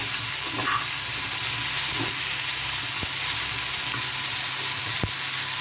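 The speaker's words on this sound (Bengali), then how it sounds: "আমি ওই তেলের মধ্যেই আলুগুলো দিয়েছি" Potatoes frying in hot oil for a Bengali-style homemade fish curry give a steady, dense sizzle throughout, close and even, with a few faint clinks of utensils and no talking.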